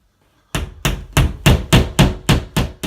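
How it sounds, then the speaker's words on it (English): A hammer taps wire closet shelf clips into a wall: after a short silence, eight sharp, evenly spaced strikes ring out loud and close, each with a brief ringing decay. "tap them in with a hammer"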